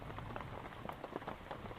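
Heavy rain pours steadily onto a surface near a simple pond-side hut, a dense continuous hiss and patter with no voices over it.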